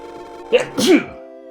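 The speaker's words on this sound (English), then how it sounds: "I'm gonna sneeze." A single sneeze up close, with a quick sharp intake and then a burst, in a quiet room.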